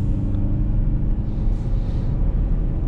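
Citroën C3 UrbanTrail 1.6 automatic (2020) moving as its gearbox shifts up quickly, heard from inside as a steady, close, low engine and road rumble with no clear break between gears.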